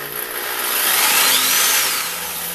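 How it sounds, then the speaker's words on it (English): A Master Mechanic third-horsepower variable speed jigsaw runs steadily at close range, a loud continuous buzzing whine that swells slightly in the middle, with no voices. "It's third horsepower, master mechanic, variable speed jigsaw."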